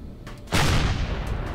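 Missiles detonate against base defenses in the space survival game Empyrion Galactic Survival: a sudden loud broadband blast at about half a second, followed by a sustained rumbling roar of continued explosions.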